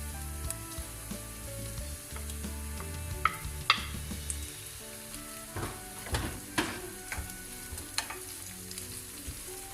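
Chicken gizzard sizzling as it is stir-fried in a pan, a steady close frying hiss with intermittent clacks and scrapes from stirring, with no talking.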